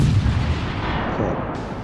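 Heavy naval guns boom in World of Warships: Legends, a dense, loud barrage of cannon fire rolling continuously through a short stretch of battle, with no voices over it.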